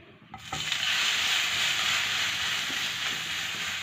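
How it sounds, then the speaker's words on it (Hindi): Garlic bread frying in a little oil on a pan, a steady bright sizzle that swells after a soft start and holds loud and close, with faint clinks of a utensil now and then. "इसी तरह से थोड़ा थोड़ा ऑयल लगाते जाएंगे और इनको फ्राई करते जाएंगे।"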